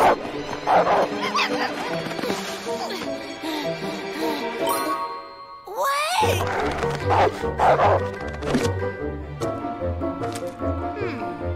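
A cartoon dog barks and yips in short excited bursts over bright jingling music, with characters speaking in between.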